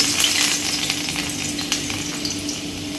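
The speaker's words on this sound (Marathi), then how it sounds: "तेल तापलेलं आहे. आपण त्यात लसूण घालू." Garlic sizzling and crackling in hot oil in a kadhai over a gas flame, a steady close frying hiss with scattered small pops throughout.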